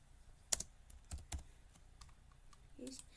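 Python code being typed on a computer keyboard, a few sparse, crisp key clicks and taps at an irregular pace, fairly quiet, with faint muffled sounds in the background.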